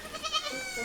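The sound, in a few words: black goats bleating on a mountain slope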